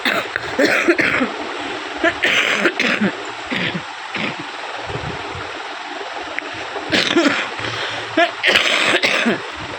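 A woman with a persistent cough coughs repeatedly in harsh bursts, spread across the clip, amid background noise and some talking.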